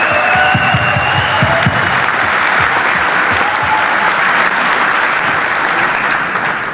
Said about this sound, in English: I want to give them both a huge round of applause